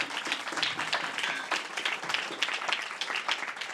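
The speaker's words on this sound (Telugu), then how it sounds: "Give the big claps to the lord and see." A Sunday church congregation gives big rounds of applause, a dense, continuous wash of many hands clapping together, loud and sustained throughout.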